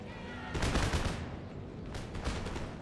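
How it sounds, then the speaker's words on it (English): Massed musket volleys fire in Empire Total War during a siege breach, as two ragged, rolling bursts of crackling gunfire, the first louder, over steady battle ambience. "You men make ready and fire."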